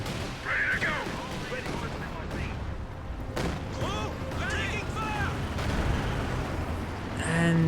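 Artillery and Land Mattress rocket barrages in Company of Heroes 2, repeated booming impacts and whooshing launches in irregular bursts, loud and mixed with game voices calling out.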